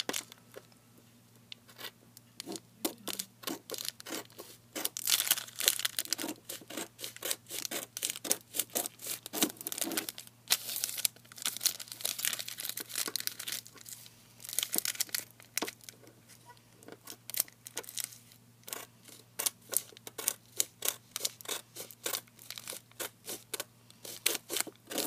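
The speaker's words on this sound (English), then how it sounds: "Starting with some scissors and the bag of your choice. So you're going to cut the sides." Scissors snip through the sides of a crinkly foil chip bag, a steady run of sharp close cuts and crackles interspersed with crinkling and tearing, with no talking.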